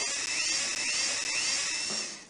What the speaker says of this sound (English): Now drill a hole for the hand grip.